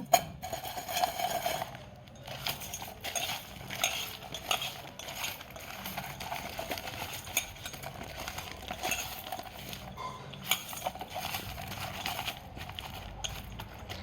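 Drumstick (moringa) pieces tossed and mixed with salt for pickle, a steady busy rustle of knocking, clicking pieces running throughout at moderate level, without talk.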